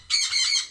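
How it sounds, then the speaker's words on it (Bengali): Sun conure parrots on a house rooftop let out a single loud, harsh squawk that rises sharply and holds for over half a second, close by, with no talking. "এগুলো হচ্ছে সব সানকুনুর পাখিগুলো।"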